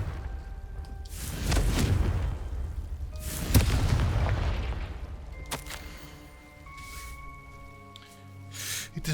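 A fiery spell explosion in the Hogwarts Legacy video game, a deep booming blast followed by a second swelling rumble, then a lighter crackling burst as the sound fades.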